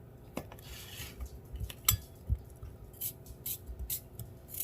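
Knife cutting cooked apples into small pieces on a cutting board, with soft close taps and clicks of the blade against the board in an irregular rhythm; no voices.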